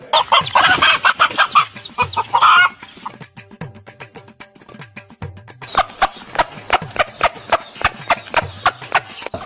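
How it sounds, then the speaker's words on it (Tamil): A hen clucks and squawks in a rapid, agitated burst, then settles into a steady series of sharp, close clucks, loud and without talking. "இவ்வளவு நேரம் உங்ககிட்ட இருந்து தப்பிக்க துடிச்ச அதே கோழி"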